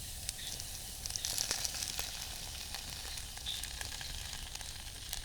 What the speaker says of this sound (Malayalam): കുറച്ച് ടൊമാറ്റോ സോസ് ഇനി ഇതിൻ്റെ അകത്തോട്ടൊന്ന് ഒഴിച്ചു കൊടുക്കാം.